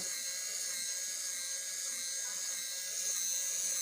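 A small geared mini rotovertor generator spins steadily, giving a continuous high-pitched whirring whine at a constant speed throughout, close and fairly loud with no voices.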